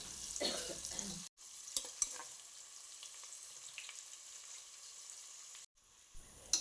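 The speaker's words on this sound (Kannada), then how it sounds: "ಈರುಳ್ಳಿ ಚೆನ್ನಾಗಿ ಫ್ರೈ ಆಗಬೇಕು ಡಾರ್ಕ್ ಗೋಲ್ಡನ್ ಕಲರ್ ಬರುವ ತನಕ ಕೂಡ ಫ್ರೈ ಆಗಬೇಕು" Onions frying in oil and ghee inside a pressure cooker give a steady, fairly faint sizzle with occasional stirring scrapes, broken by two short silent gaps.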